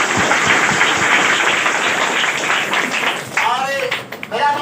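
An audience at a school prize distribution claps loudly for a top-scoring student, a dense, sustained burst of many hands applauding together that thins out near the end as a voice begins speaking.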